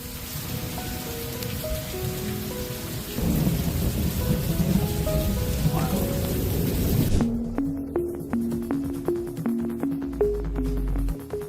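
A thunderstorm with rain in St. Louis, Missouri: heavy rain hisses steadily while loud rolling thunder rumbles through, followed by a sharper crack and more distant rumbling, with no voices.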